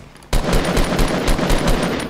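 Gunfire in the video game Fortnite, a sudden loud burst of rapid automatic shots after a brief quiet start, with roughly eight evenly spaced cracks rattling close by.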